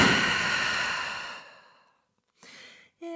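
A long, deep exhale held in a downward dog pose during a vinyasa yoga class, loud and close, trailing off into quiet before a couple of faint soft sounds.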